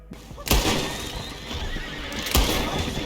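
A horse in the Red Dead Redemption 2 video game whinnies loudly, with hoof clip-clops and game ambience around it, while a faint second neigh follows.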